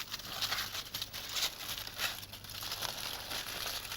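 Aluminium foil crinkles and rustles as it is wrapped around a square of soft cardboard for salmon, a continuous close crumpling with small crackles throughout.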